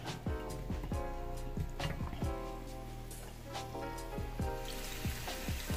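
Onion and carrots frying in a pan, a soft, steady sizzle under clattering and scraping from utensils, fairly quiet and close.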